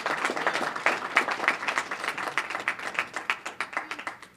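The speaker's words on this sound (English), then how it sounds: "Now give yourselves a round of applause." A crowd applauds with dense, steady clapping that thins slightly toward the end, loud and close.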